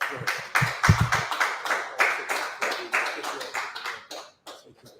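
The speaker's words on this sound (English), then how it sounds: "So clap it up for the good stuff." A crowd claps in a brief round of applause, the dense patter of hands fading out over a few seconds.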